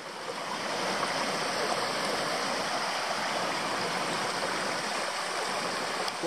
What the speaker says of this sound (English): I think these 600 metres will be along the creek. It isn't flowing all that strongly